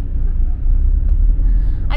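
Cars pass on a winter road in Slovenia with a low, continuous traffic rumble that swells and fades.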